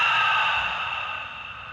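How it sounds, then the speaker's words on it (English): A single long cleansing exhale through an open mouth during a yoga breathwork session, an airy, breathy sigh close to the listener that fades gradually over about two seconds. "Breathe in through your nose. Open mouth, exhale."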